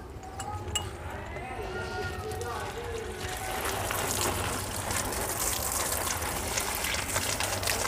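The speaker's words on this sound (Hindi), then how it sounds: "ऐसे गमलों को पानी दे लूँ ज़रा" Water from a pipe pours into potted plants, a steady close gushing and splashing that grows fuller partway through, while someone talks over it.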